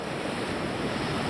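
Ocean surf crashes steadily onto the beach at Nags Head, a loud, continuous wash of breaking waves with wind noise mixed in and no voices.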